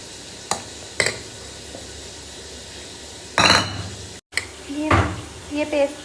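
Spiced pakora batter paste is mixed in a bowl, giving a few sharp utensil clinks and taps followed by louder scraping, stirring bursts, close and alone.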